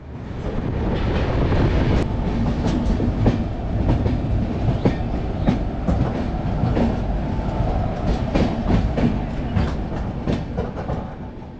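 Shatabdi Express train (12042, New Jalpaiguri to Howrah) crossing the Mahananda river bridge, heard steadily and loudly from on board, with a continuous rumble and repeated clickety-clack of wheels on rails throughout.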